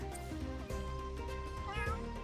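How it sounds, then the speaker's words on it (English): Cats meowing in The Sims 3, a few short mews rising over steady game music and background ambience. "I've got a couple of cats kind of chatting and hanging out here."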